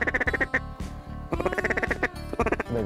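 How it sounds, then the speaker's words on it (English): Ducks quack loudly in rapid, repeated bursts during a duck and goose hunt, a rhythmic call sequence with short pauses that sounds close and dominant. "There's ducks coming up in front."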